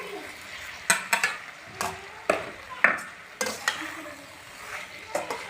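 Okra tossed into softened tomatoes in a pan and stirred with a spoon: a handful of sharp scrapes and clinks of utensil against pan over a light frying sizzle, close up, with no talk.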